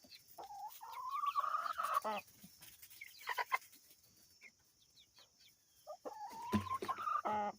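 A hen gives repeated rising, strained distress calls with clucks in between, fairly close in a coop, with quiet gaps between bursts.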